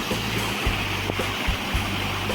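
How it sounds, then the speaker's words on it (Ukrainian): A multi-tiered autumn waterfall roars in a steady, close wash of rushing water, with a low rumble underneath and no voices. "І так, друзі, цікавий дуже водоспад."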